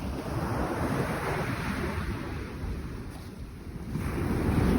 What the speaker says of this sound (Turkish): Denizden karaya doğru rüzgarımız esiyor.